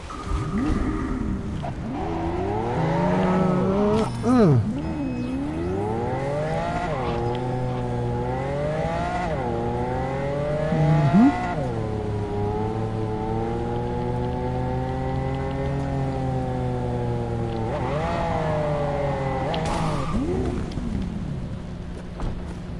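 A car engine in a video game hums steadily and loudly, its pitch repeatedly rising and falling as it revs and shifts over a long stretch of driving, with a voice occasionally speaking over it.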